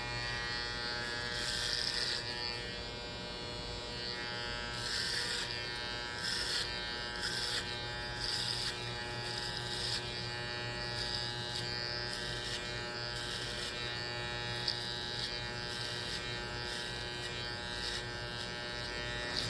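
Electric hair clippers buzz steadily and close up while cutting a drop fade haircut, with a continuous hum that rises and dips in short strokes against the hair.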